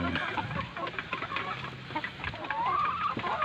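Chickens at an egg-laying coop clucking close by, busy overlapping calls and squawks, with a rising cry near the end.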